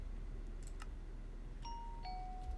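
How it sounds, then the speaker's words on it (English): A Minecraft note block doorbell chimes in the game as two faint, clear tonal dings, the second one lower and held longer, over a quiet steady hum. "you can ring my doorbell."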